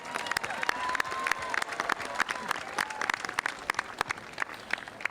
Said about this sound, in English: Please, a round of applause for their leadership throughout this school year.